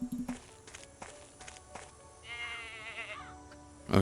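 A goat bleats in an Agatha Christie: And Then There Were None video game, a wavering cry in the middle after scattered footsteps, with a sharp thump at the end.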